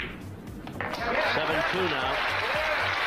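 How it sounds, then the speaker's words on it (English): Warm crowd applause swells at a professional pool match, a steady wash of clapping that builds and sustains while a commentator speaks over it. "the crowd gives him a very warm reception"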